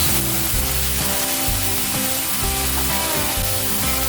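Sliced winged beans hit a pan of softened tomatoes and set off a loud, steady sizzle and hiss of sautéing that runs through the whole moment, with a tonal backing underneath and no talking.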